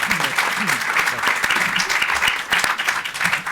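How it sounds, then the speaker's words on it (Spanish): An audience claps steadily in a dense, continuous round of applause that holds at an even level throughout. "yo creo que le tenemos que dar un aplauso por esos 40 años"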